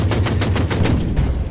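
Rapid gunfire in the strategy game Order of Battle, Winter War on the Karelian Isthmus, an attack on an enemy fighter: a steady burst of evenly spaced shots, loud and close, with no talk.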